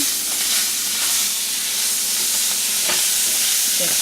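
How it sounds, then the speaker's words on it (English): Chicken gizzards sauté in hot butter in a pan, making a loud, steady sizzle and hiss that carries on without a break, close to the mic and with no voices. "our butter is hot and we're ready to saute the gizzard"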